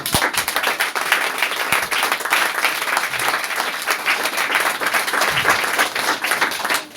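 A church congregation applauding and cheering at a sermon, loud continuous clapping from many hands that carries on for several seconds.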